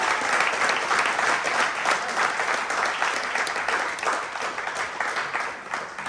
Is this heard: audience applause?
yes